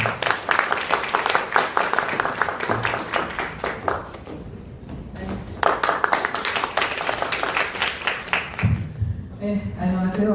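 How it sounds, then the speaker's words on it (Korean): An audience at a Korean ceremony on elder abuse in long-term care facilities claps to welcome a provincial council member to the podium, with many hands clapping rhythmically in strong bursts and fading near the end. "큰 박수로 모시도록 하겠습니다."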